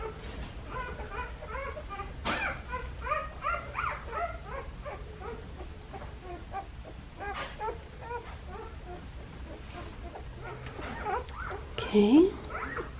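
A puppy whimpers and yips in a steady run of high cries with a sharper bark near the end, close and fairly loud, with a person talking quietly underneath at times.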